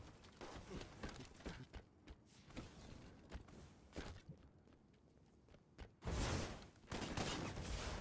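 Gunfire in the multiplayer shooter Halo 5, with quick crackling volleys and scattered shots over busy game noise, rising into a loud sustained burst toward the end.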